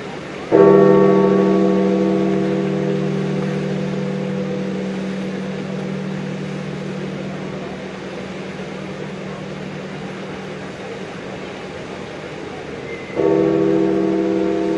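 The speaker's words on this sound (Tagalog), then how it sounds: "Ang tinig ng kampana ay hudyan na ang Papa ay sumakabilang buhay na." A church bell tolls for the death of Pope Francis, two loud, ringing strikes about twelve seconds apart, each long hum slowly decaying between them.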